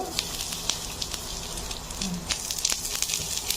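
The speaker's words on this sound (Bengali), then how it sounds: "এবার আমি প্রথমে রসুনগুলো দিয়ে দেব" Garlic cloves drop into hot mustard oil for a raw mango pickle. Close, irregular crackling pops sit over a soft, steady sizzle.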